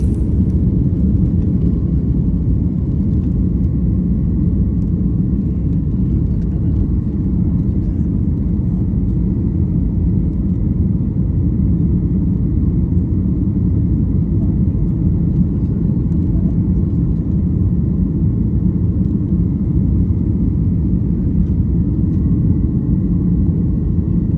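Cabin of an airplane in flight from Jaipur to Delhi, a loud, constant low engine roar and rumble filling the space without break.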